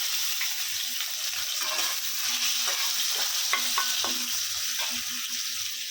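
Onions frying in hot oil in a kadai, a steady close sizzle with scraping stirring strokes and small spatters throughout, no voices.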